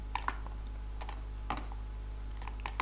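Mouse clicks on a computer while working in PLAXIS 3D structural analysis software, a few sharp, quiet clicks in pairs and singles over a faint steady hum, with no voices.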